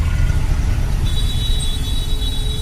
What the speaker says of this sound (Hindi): बहुत जाम लगता है यहाँ, बहुत ज़्यादा ट्रैफिक है।